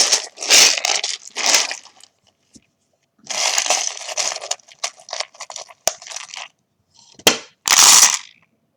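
Small charms are shaken and shuffled in cupped hands for a charm reading, producing several bursts of loose rattling and clinking separated by silences, with sharp clicks as pieces drop.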